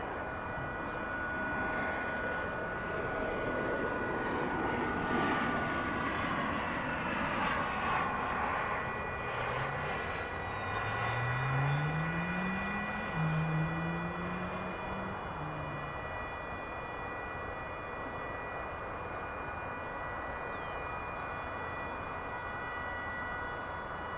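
Airliner arriving from San Luis Potosi at Dallas/Fort Worth airport, its engine roar swelling from a distance and passing steadily, with a falling whine midway as it goes by, heard alone without talk.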